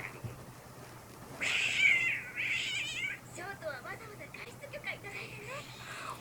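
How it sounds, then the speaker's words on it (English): An angry cat in My Hero Academia gives a drawn-out, rising meow followed by shorter wavering cries, moderately close against a quiet background. "Why is the cat mad at Aizawa?"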